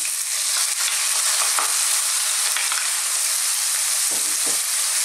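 Finely chopped onions hiss in hot oil for an eggplant and tomato curry, a steady bright sizzle close to the pan, with a few soft stirring scrapes.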